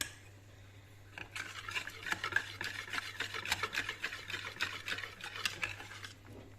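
A spoon stirs a pot of thick yogurt and green lentil soup, scraping and clinking in a busy, close sequence of soft taps for several seconds.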